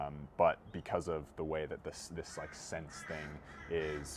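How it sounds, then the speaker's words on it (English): Crows caw repeatedly in the background, several harsh calls faint behind someone talking close to the microphone. "excuse the birds in the background"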